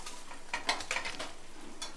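Fried fish pieces are lifted out of a frying pan, giving a few close metallic scrapes and clinks from the utensil over a soft, continuous sizzle of oil, with no talk.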